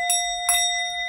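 A bright bell dings twice in quick succession, with clear ringing overtones that hang on and fade.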